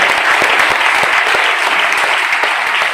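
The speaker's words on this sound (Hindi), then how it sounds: "तो इस वंडरफुल बिजनेस के लिए एक बार जोरदार तालियां हो जाए।" Dense, steady clapping from an audience at a network marketing business seminar, loud and sustained for the full stretch with no voices.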